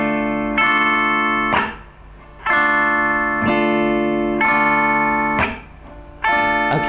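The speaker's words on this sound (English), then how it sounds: "So what we're gonna do is down, up, chop, up." Guitar strums a down, up, chop, up pattern for a song, with sustained chords broken by short percussive muted chops, repeated in an even rhythm, close and clear with no voice.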